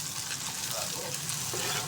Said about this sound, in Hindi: प्याज को इसलिए हमने फ्राई करना है इन सारी चीज़ों को